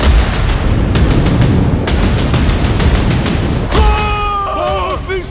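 Cartoon gunfire and explosions rattle in rapid bursts of loud, dense bangs, followed by whistling, sliding tones near the end.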